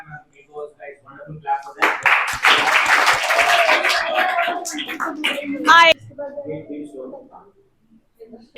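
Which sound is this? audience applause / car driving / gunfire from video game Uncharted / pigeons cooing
audience applause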